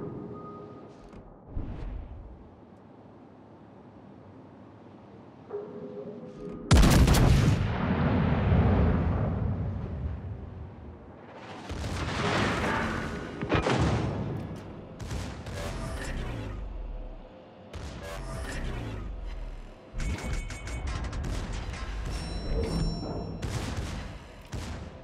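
Warship guns firing in a naval battle video game: a heavy booming blast, then repeated loud explosive salvos with rumbling decay across the clip, with brief spoken radio commands heard between them.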